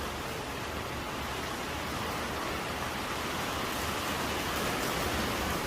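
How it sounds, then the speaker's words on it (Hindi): Rain pours steadily during the first winter storm in Lahore, a loud, even broadband hiss of drops on surfaces that holds unbroken from start to finish with no voices. "बारिश हो रही है, मौसम बहुत ही खुशगवार हो गया है"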